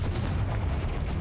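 Confringo, a blasting spell in Hogwarts Legacy, erupts as a dense, rumbling low-heavy blast that roars continuously for its brief duration, loud and close with no voices.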